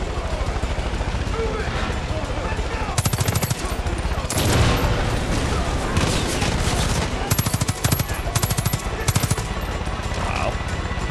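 Bursts of automatic gunfire in Far Cry 5, rapid volleys of shots in several clusters over steady game ambience, loud and close, with someone talking at times.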